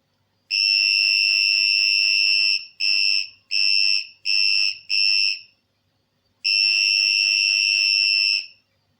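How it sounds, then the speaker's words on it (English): A shrill electronic buzzer goes off in a long blast, then a run of four short beeps, a pause, and another long blast. "that's the buzzer for you."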